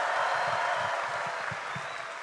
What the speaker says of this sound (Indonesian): Boleh tepuk tangan lagi yang meriah buat Mas Gibran.